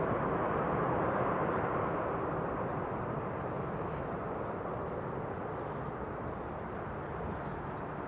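Turkish cargo plane arriving at Amsterdam Schiphol Airport, a steady broad jet engine roar heard from a distance, loud and constant and slowly easing, with no voices.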